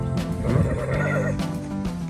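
A horse on a farm resort whinnies loudly and close, a long quavering neigh over about two seconds, with faint hoof clip-clop beneath and no talking.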